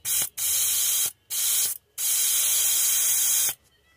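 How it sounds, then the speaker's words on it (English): An airbrush sprays paint onto a red and pink shad pattern fishing lure in close, loud hissing bursts: four sprays of varying length separated by brief silent gaps. "we're just gonna take and spray those little white spots"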